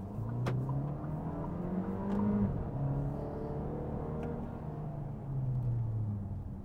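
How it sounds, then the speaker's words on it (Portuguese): A Fiat Fastback Abarth sports car engine roars steadily, its deep revving drone rising and falling with acceleration, loud and close with no talking. "Esportivo pra caramba, ronco empolgando demais."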